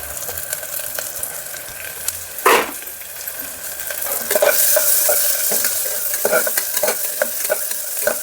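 Onions, a small tomato and four green chillies fry in a pan for mutton keema palak curry, giving a continuous sizzle with repeated stirring scrapes and one sharp utensil clank partway through.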